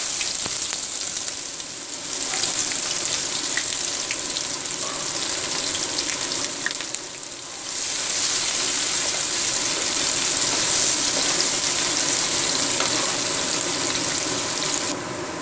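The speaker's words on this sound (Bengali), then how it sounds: "এবার পেঁয়াজটা দিয়ে দিন," Chopped onion frying in hot oil for a Bengali green jackfruit dish, a steady close sizzle that runs continuously, dips briefly about midway, then swells back to a bright, dense crackle with no talking.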